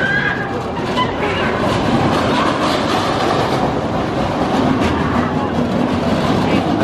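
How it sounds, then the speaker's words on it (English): A roller coaster lift hill at Busch Gardens Tampa Bay gives a steady, continuous mechanical rumble with dense rattling and clanking, loud and close, running without a break and with no voices. "will recognise the sound of that lift hill"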